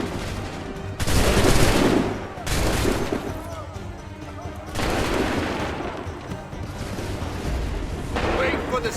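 Musket volleys in Assassin's Creed 3 erupt in several loud bursts separated by quieter gaps, each a thick crackling roar of many shots, with battlefield voices shouting between them.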